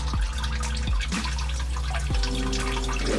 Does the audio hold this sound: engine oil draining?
yes